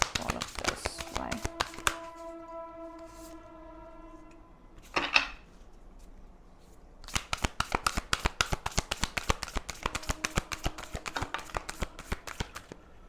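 Crisp flutters and taps of a new tarot card deck being shuffled, riffling bursts at the start and a long run of rapid, evenly spaced card slaps later, with a brief tonal chime in between.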